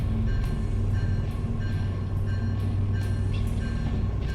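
A train in Derail Valley rolls along steadily with a loud low rumble, a constant engine hum and a regular rhythm of wheel clicks repeating about twice a second.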